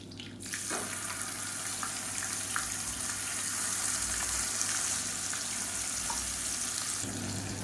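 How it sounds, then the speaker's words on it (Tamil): Tap water runs steadily while a mixer grinder jar is rinsed in a home kitchen during masala cooking, a close, continuous hiss lasting several seconds with no talk. "நான் வந்து மிக்சியை அலசிட்டு கொஞ்சமாக தண்ணி விட்டுருக்கேன்"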